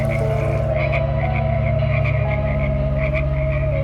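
Frogs croak by a river at night in Loveland, Ohio, a loud, steady chorus of overlapping rhythmic calls over a constant low drone, with no talking.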